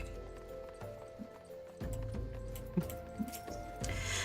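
Game-world sound effect of a horse pulling a carriage, its hooves clip-clopping at an even walking pace, faint and fairly close.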